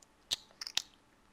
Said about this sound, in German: Du schmatzt. Das nervt meine Abonnenten.